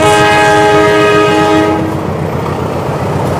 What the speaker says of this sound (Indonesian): ini kebetulan ada kereta nih yang lewat nih